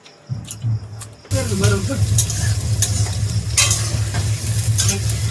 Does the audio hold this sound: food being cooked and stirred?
yes